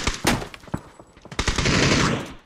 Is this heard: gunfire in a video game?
yes